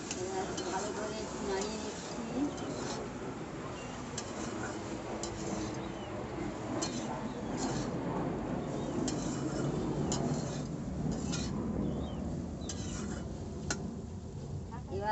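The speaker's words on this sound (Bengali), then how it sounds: "এবার ভালো করে নাড়িয়ে নিচ্ছি।" Bottle gourd and potato curry stirred in a pan with a spoon, giving steady scraping and light clinking against the metal with a soft sizzle beneath, fairly quiet and continuous.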